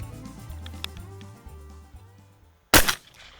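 A smoothbore shotgun fires a single loud, sharp blast of 00 buckshot at a drone flying overhead outdoors, coming after a few seconds of low, steady background hum.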